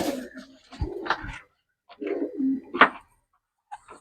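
Teddy pigeons at a farm in West Bengal give several soft, close coos in short bursts separated by brief silences, with a faint clipped call at the end.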